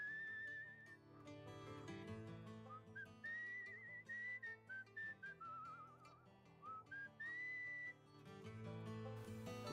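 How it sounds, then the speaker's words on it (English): A character in the game Where the Water Tastes Like Failure whistles a steady, wandering tune over soft background music. The whistling is clear and continuous, with short gaps between phrases. "I'm not quite sure how this whistling works."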